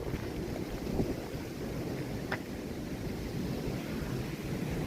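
Strong storm wind of about 125 km/h roars during a thunderstorm warning in woods in Hessen, a steady, loud, buffeting rush that blasts into the microphone without letup.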